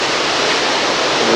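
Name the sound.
floodwater from Hurricane Isabel near Browns Neck Road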